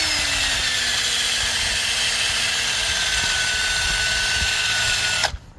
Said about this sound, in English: What I like to do is take a brush like this in my drill.